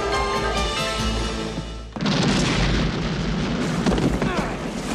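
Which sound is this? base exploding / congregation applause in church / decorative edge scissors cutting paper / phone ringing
base exploding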